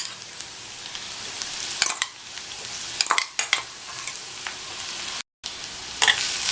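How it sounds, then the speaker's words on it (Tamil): Ground coconut mixture and onion sauté in a pan for a radish side dish, a soft steady sizzle broken by scraping stirs and clinks of the spoon, with one brief dropout near the end and no talk. "இதை 2 நிமிஷம் போல் நல்லா வதக்கி விட்டுக்கணும்."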